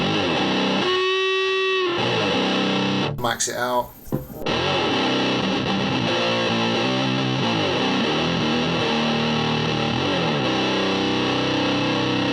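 Heavily distorted electric guitar through a FuzzBeard Industries Tuskano DeLuxe fuzz pedal at high gain, sustained chords and notes, loud and close, with a brief spoken remark partway through.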